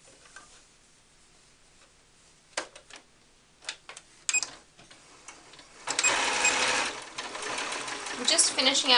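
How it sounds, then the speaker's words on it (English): Close by, a sewing machine stitches the blanket seam on a cloth baby doll, a few scattered clicks and taps first, then a steady rapid whirring run that speeds up toward the end, with a voice talking faintly throughout. "Just finishing up that front top layer blanket seam."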